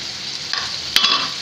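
Prawns fried in oil with spices for a prawn and taro curry, giving a steady soft sizzle with a brief scrape of stirring near the middle and one sharper clink.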